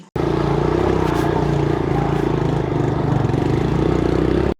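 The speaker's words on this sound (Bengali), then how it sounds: "ঝিরে আমরা বাইক চালিয়ে পার হয়ে গেছি" A motorbike engine hums steadily and fairly close on a muddy hill road, with a constant low drone for a few seconds and no talk.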